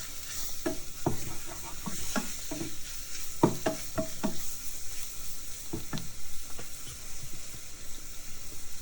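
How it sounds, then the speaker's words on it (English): Minced garlic and flour cooking in a pan while being stirred, giving scraping, clicking stirring strokes over a steady low sizzle, close and moderately loud, with no talking. "And then I add the minced garlic and keep mixing it. Next, I add the flour and let it cook a little."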